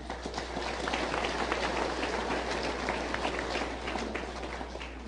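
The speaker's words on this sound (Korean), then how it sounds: "우리 김홍장 도의회 부의장님께 박수 한번 보내주시기 바랍니다" Sustained applause from an audience at a Korean political forum, honoring a provincial council vice-chair; steady dense clapping fills the whole stretch at moderate level with no speech.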